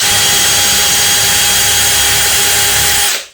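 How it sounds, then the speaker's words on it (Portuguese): An electric drill whines loudly and steadily for about three seconds while drilling a dowel hole through a drilling jig, then winds down and stops. "Pego minha furadeira, faço"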